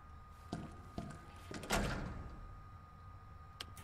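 A locked door in Resident Evil 2 gets tried, giving a few dull knocks and thunks followed by a heavier rattling clunk that rings out briefly. It sits close and moderately loud against a quiet game backdrop.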